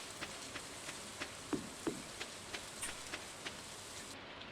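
Gentle rain falling in the farming video game Stardew Valley, a steady faint patter with scattered soft drops tapping at an uneven rhythm, quiet and alone with no talk.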